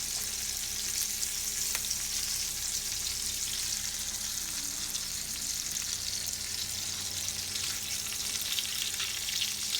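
Foie gras and egg pieces fry in a pan, a steady close sizzle and crackle holding evenly throughout with no talking.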